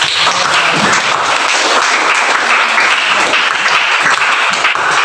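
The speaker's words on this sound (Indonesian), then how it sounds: "beri tepuk tangan" A classroom audience claps in loud, sustained applause, a dense even wash of many hands lasting several seconds.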